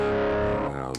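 Sustained electric guitar chords through a delay pedal on a budget pedalboard, the notes repeating and trailing off in delayed echoes as the sound fades.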